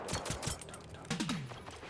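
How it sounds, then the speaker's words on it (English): Bursts of pistol gunfire in a video game, several rapid close shots in quick clusters with a voice briefly heard among them. "We can kill them with pistols."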